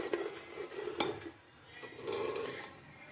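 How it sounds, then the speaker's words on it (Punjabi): A spoon stirs spice paste for an aloo chole curry in a pan on a medium gas flame, giving soft scraping and clinking strokes that rise and fall, fairly quiet and close, with no talking. "ਜੋ ਆਪਾਂ ਪੇਸਟ ਬਣਾਇਆ ਸੀ ਇਸ ਨੂੰ ਐਡ ਕਰਾਂਗੇ ਇਸ ਨੂੰ ਚੰਗੀ ਤਰ੍ਹਾਂ ਮਿਕਸ ਕਰਾਂਗੇ"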